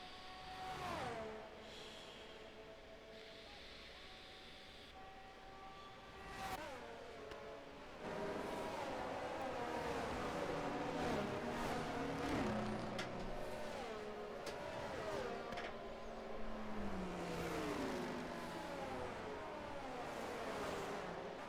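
Race cars in a sim racing league running in a pack behind the safety car at a Las Vegas round, engine drones rising and shifting in pitch steadily throughout, growing louder after a few seconds, with no talk.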